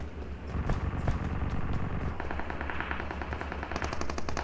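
Rapid automatic gunfire in the battle royale game PUBG Mobile, with dense bursts of shots rattling close by and more distant firing continuing behind them, steady and busy.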